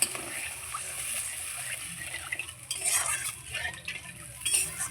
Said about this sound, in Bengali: এইবার দিয়ে দেবো আমি গ্রেভির জন্য অল্প করে জল।